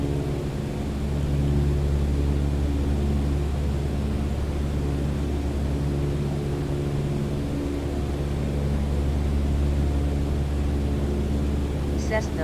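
Steady drone of a Cessna's propeller engine in Microsoft Flight Simulator 2020, holding a constant hum with strong low tones as power is gradually added, loud and continuous throughout.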